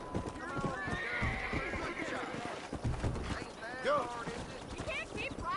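A horse in the video game Red Dead Redemption whinnying amid steady clip-clopping hooves, while someone talks over the game audio.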